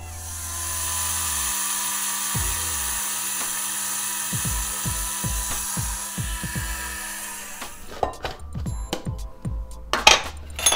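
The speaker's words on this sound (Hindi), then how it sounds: "फ्लैक्स सीड्स ठंडे हो चुके हैं, तो अब एक ग्राइंडर में डाल के मैं इनका बारीक पाउडर बना लूंगी।" An electric kitchen grinder whirs steadily while grinding roasted, cooled flax seeds into fine powder, then stops, followed by clattering clicks and knocks of the jar and lid.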